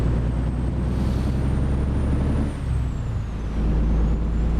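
A heavy truck's air brakes hiss in a driving game set on Oklahoma roads, a steady broadband rush over a low engine drone that briefly dips midway, with no talking.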